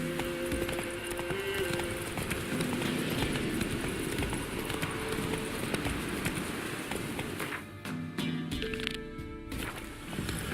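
Horse hooves clip-clop at a steady galloping rhythm in The Witcher 3, running loud and continuous over game music, with a brief pause near the end.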